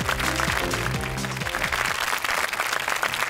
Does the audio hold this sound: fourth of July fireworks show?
no